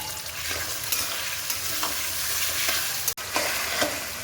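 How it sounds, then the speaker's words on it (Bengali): Meat and onions sizzle steadily in a pan, with occasional stirring scrapes over the constant hiss of frying. "এই পেঁয়াজের সঙ্গে মাংসটাকে ভেজে নেব"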